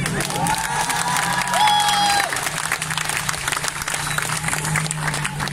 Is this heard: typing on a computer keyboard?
no